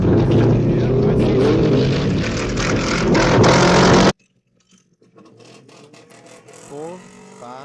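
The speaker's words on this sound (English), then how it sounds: "I hear it sounds like we got cars moving." Side-by-side UTVs racing at a Durhamtown track, a loud close engine roar for about four seconds that cuts off abruptly, followed by faint distant engines revving and rising in pitch.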